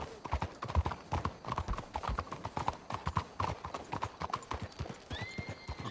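Horses' hooves clip-clop steadily and close in Red Dead Redemption 2 gameplay, a rapid continuous rhythm of hoof strikes with a brief whinny near the end.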